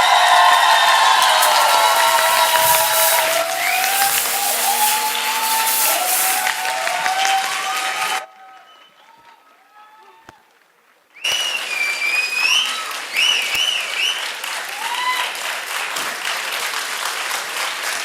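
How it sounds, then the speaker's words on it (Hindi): A theatre audience gives a standing ovation after the play Maharathi at a summer theatre festival, with loud, sustained clapping, whistles and cheers. The sound drops almost to silence for a few seconds, then the ovation returns at full strength. "ये तालियां, ये स्टैंडिंग ओवेशन।"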